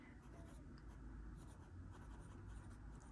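A TWSBI Diamond 580 ALR fountain pen with a broad nib scratches steadily across paper, a close, quiet continuous writing sound under low room noise.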